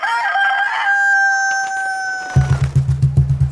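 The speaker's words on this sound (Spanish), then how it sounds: "Una vez frente al enemigo, el Carmelo agitó las alas y cantó" A rooster crows loudly in a long drawn-out call that tails off, followed by a short run of rapid, deep wing flaps, set in a cockfighting scene.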